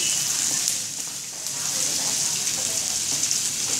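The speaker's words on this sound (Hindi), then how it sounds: "अब इसमें प्याज डाल के भूनती हूँ प्याज और हरी मिर्च" Chopped onion and green chilli fry in a hot pan, giving a steady, close, fairly loud hiss and sizzle with no voices over it.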